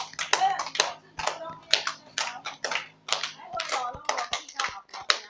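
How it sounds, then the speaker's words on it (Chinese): A group of elderly people clap their hands in quick irregular bursts during an outdoor exercise session, with laughter and chatter mixed between the claps. "哈哈哈，拍手拍手。"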